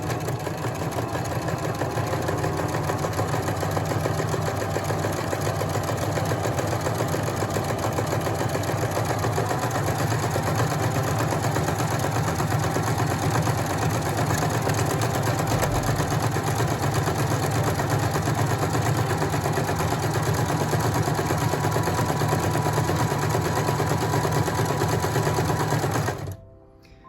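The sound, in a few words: sewing machine stitching a buttonhole on a pillow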